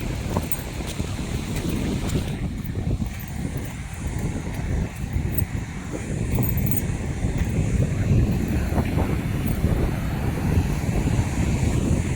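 Nevada Fall in Yosemite roars as a steady, broad wash of falling water from the top of the fall, loud and unbroken, with a faint gusty edge.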